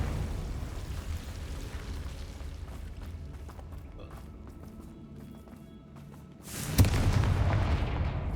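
A Confringo fire spell explodes in the video game Hogwarts Legacy, a sudden loud blast near the end after a steady rumbling stretch of game ambience.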